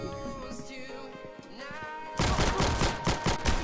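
An M1A1 carbine fires in the Roblox game Arsenal: a rapid string of close shots bursts in partway through, after a stretch of game music and tones.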